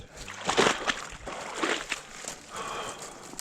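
Splashing and sloshing steps through deep water in a dense, storm-flooded forest, several near, uneven surges of churning water over a few seconds with no talk.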